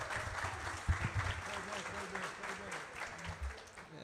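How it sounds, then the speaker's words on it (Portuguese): An audience at a football debate gathering applauds for the commentator Kleber Machado. The soft, steady clapping stays low beneath a voice that continues over it. "uma salva de palmas para Kleber Machado"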